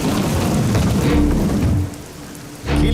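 Heavy rain pours down in a dense, steady roar that dips briefly and then surges back loud.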